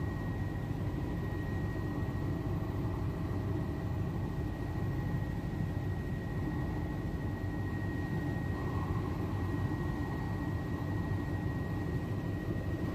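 Steady, loud broadband roar of a helicopter in flight high above the Canadian Rockies on a glacier tour, an unbroken engine-and-rotor wash with a faint constant whine, no talk.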